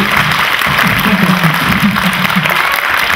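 A children's audience at a Sinterklaas event applauding, dense steady clapping from a large crowd filling the whole stretch with a murmur of voices underneath.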